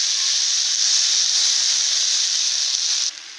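Chicken pieces cook on a hot tawa, giving a loud, steady hiss of sizzling that holds evenly for about three seconds and then drops off sharply, with no talking.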